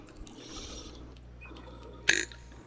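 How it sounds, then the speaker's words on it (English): A single short burp with an odd, electronic-sounding quality bursts out loudly near the end, over a low steady background hum and faint clicks. "That was such a computerized burp."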